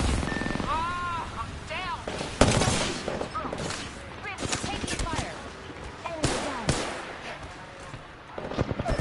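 Bursts of rapid gunfire and single shots from a shooter video game, loud and close, with several players talking over the shooting throughout.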